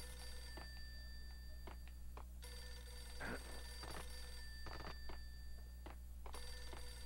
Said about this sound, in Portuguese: Ih, telefone tocou.